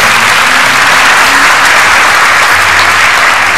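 A television studio audience at a Ramadan program claps for children, producing loud, steady, dense applause that fills the whole stretch without letting up.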